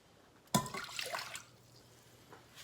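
Water from a Berkey filter spout splashes into a measuring cup in a home kitchen: a sudden start of pouring, then a bright trickling fill lasting about a second before tapering to quiet, with a faint clink near the end.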